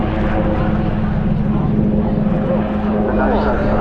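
A military helicopter comes to the hover at an RAF Cosford airshow, its engine and rotor giving a loud, steady drone with a sustained whine, while a commentator talks over it.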